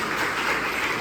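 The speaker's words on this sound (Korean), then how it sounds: "무경철 교수님을 뜨거운 박수로 맞이해 주시기 바라겠습니다" An audience applauds to welcome a professor giving a lecture on AI and robotics, steady dense clapping that holds at an even, full level from start to finish.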